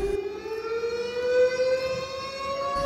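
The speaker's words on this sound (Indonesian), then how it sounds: "Pembukaan MTQ tersebut ditandai ditekannya tombol sirine" A siren wailing steadily with a slowly rising pitch, loud and continuous, with no voices, sounded to open a provincial Quran recitation competition (MTQ) in Pidie, Aceh.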